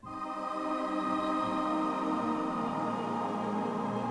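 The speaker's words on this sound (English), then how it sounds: "without the reverb it sounds like this." A sustained synth pad chord holds steady and full for about four seconds, dry and even, with no tail or wash around it.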